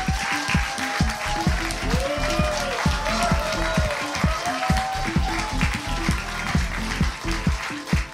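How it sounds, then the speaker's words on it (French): An audience claps for a striptease act at a cabaret-style show, sharp rhythmic clapping that beats in a steady pulse against a tonal musical background. "Je vous demande d'applaudir Néphel, notre effeuilleuse de charme."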